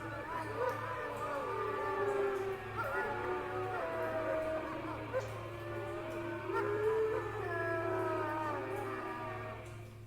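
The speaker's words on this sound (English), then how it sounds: "Those howling creatures aren't coming in yet" Several creatures howl together at night as a drama sound effect, long overlapping rising and falling wails with whimpering yips, steady and fairly close over a low hum, continuing without pause.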